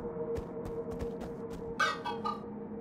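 Chickens in the Minecraft Story Mode video game give a short burst of clucks near the end, a few quick calls rising over a quiet, steady background with faint ticking.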